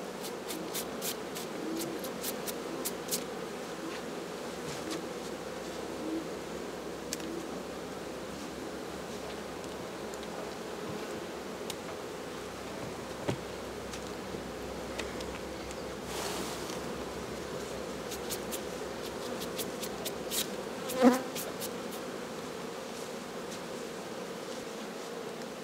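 Buckfast honeybees hum continuously around hive frames in a tall stacked hive, a dense steady drone at close range with occasional light knocks and rustles.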